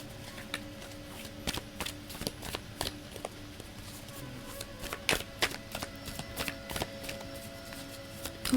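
Tarot cards shuffled and drawn from the deck, a run of quick, crisp riffling flicks and soft card slaps repeating irregularly at close range over a faint steady hum, with no talking.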